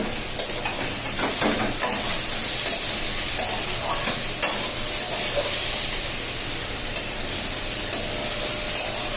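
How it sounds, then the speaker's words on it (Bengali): Potato and poppy seed aloo posto sautéing in a pan, giving a steady, dense sizzle and hiss with occasional faint clicks and stirring scrapes, heard alone without talk. "এখানে আবার আলু পোস্ত আলু কষা হচ্ছে তো কষা হয়ে গেছে প্রায়"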